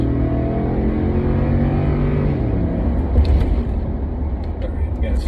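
A 2015 Ford F-150 with a 5-liter V8 pulls hard under acceleration, a loud, steady engine roar heard from inside the cab that holds high and then eases off as it slows.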